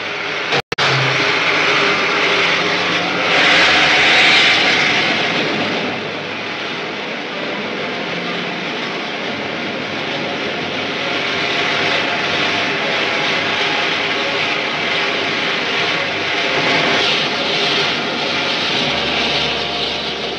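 A film spaceship taking off in a 1950s science-fiction serial, a loud continuous engine roar resembling a jet aircraft that rises briefly, then holds steady for twenty seconds with no voices.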